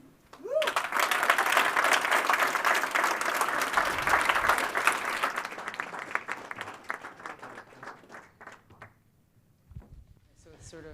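At a startup demo day, an audience bursts into applause for a presenter, a full, loud wash of clapping that gradually thins into scattered claps and fades, followed by a brief bump near the end.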